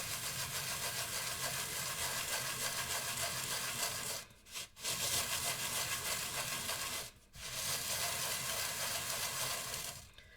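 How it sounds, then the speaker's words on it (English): Firm, steady rubbing of a piece of chalk against salt on a plate, a continuous close scraping texture broken by two short pauses. "we're going to take our piece of chalk and we're going to start rubbing"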